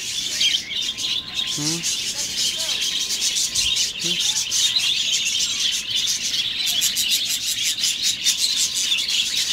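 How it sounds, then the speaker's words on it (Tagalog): Many birds chirp and tweet continuously at a farm bridge, a dense outdoor chorus with people talking briefly over it. "Yes, ang daming birds."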